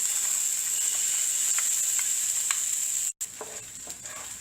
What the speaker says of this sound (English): once the oil is heated, add all the onion paste.